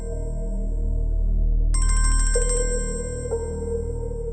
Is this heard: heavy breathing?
no